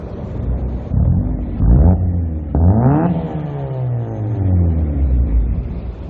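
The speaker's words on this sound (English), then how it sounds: "Guess we'll give you guys a little exhaust clip." Eighth-generation Honda Civic with a resonator delete, its exhaust revving outdoors in a few rising pulls that swell and fall back to idle, loud and close with no talking.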